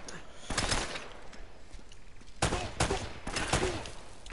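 In the action game Uncharted, an enemy's machine gun fires in several loud, rattling bursts at close range, separated by short gaps of quieter background noise.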